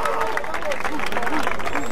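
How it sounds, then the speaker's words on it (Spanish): Crowd applause and cheering at a Spanish-language rap battle, a dense wash of clapping under a loud announcer's voice. "Un aplauso para esos dos cabrones"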